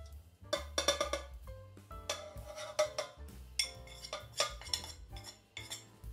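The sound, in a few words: mixing sugar and seasonings together in a bowl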